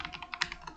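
Computer keyboard keys tapped in a quick, uneven rhythm, a short burst of close, moderately quiet clicks with no talking.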